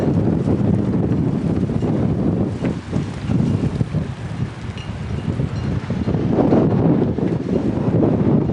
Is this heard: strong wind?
yes